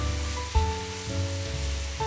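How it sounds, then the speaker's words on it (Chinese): Scallion whites hit hot oil with ginger and chili bean paste in a wok, giving a steady close sizzle with a sharp burst of frying as they go in, then stirring sounds. "然后再下葱白爆炒"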